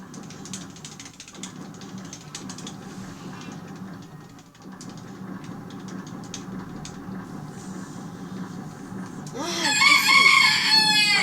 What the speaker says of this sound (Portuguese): Essa galinha enche o saco.